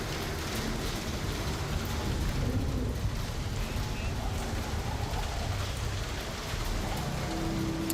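Steady rain patters on a ship's ramp in the video game Star Citizen, a dense, constant hiss of droplets that holds evenly throughout with faint rumbling beneath.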